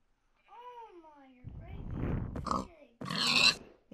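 A Minecraft pig gives a few short grunts mixed with other game noises, while a voice talks over them.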